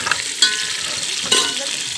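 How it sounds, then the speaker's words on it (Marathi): Onions and curry leaves frying for khichdi, sizzling steadily in hot oil with two brief sharper bursts of spatter and a few stirring scrapes, close and fairly loud with no talk. "कांदे टाकून दिले मी आता"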